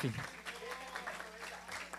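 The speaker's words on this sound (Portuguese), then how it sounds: "Na moral, palmas, viu? Muitas palmas." Applause from a seminar audience on transmasculine health rights, a steady spread of clapping running the whole moment at moderate distance, with a voice briefly audible at the start.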